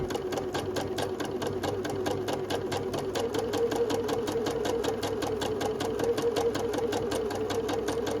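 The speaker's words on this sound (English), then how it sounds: "I'm going to have a slightly shorter stitch and try and keep that needle close to the edge" A sewing machine runs a short stitch right along the edge of a sundress bodice, its needle tapping in a fast, even rhythm under a steady motor hum, close and continuous without pause.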